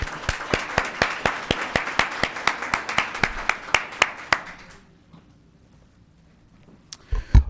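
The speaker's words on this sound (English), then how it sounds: "A round of applause for Miss Dianna Hill." A small group at a town council meeting claps in a steady, fairly sparse rhythm for several seconds, then the clapping stops and the room goes quiet.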